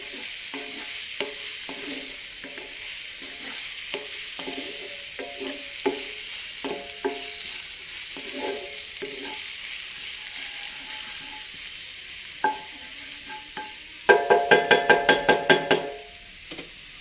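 Onion softening in a pan for egg bhurji, a low sizzle punctuated by repeated scraping and tapping strokes of a spatula, ending in a quick run of rhythmic knocks against the pan, close and without talk.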